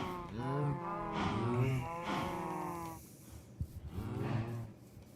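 Cows mooing in a castle-building video game: several drawn-out moos follow one another at moderate volume, some overlapping, with a brief quieter gap midway and no speech.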